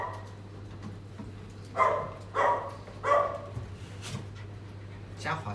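A pack of puppies among many dogs, giving three close yelping barks in quick succession followed by another later, over a constant low hum and soft panting.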